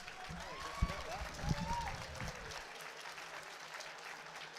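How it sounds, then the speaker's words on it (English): Applause from a crowd at a UKFC 21 fight show, clapping for both fighters after a second-round submission win, with voices over it and an announcer's call fading to quieter hall ambience midway. "Please give them both a round of applause"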